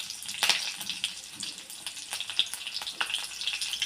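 Green chillies and cumin seeds sizzle in hot oil in a pan, a steady close crackle with a few sharper pops and spits along the way.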